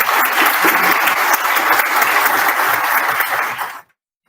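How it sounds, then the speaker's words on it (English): An audience at a provincial candidates forum in Airdrie gives the volunteers a loud, dense round of applause lasting nearly four seconds, then it cuts off abruptly into silence. "Should we give them a round of applause?"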